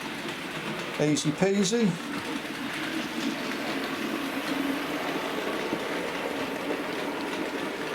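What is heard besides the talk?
Bachmann 31-531 Trimbush model locomotive crossing points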